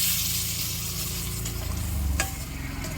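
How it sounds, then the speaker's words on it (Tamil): Dry fish fry, kaarai karuvadu, crackles and sizzles steadily in a hot pan while being stirred, with close scraping of the utensil and a clear scrape about two seconds in, and no voices. "ஒரு கிண்டு பார்ப்போம்."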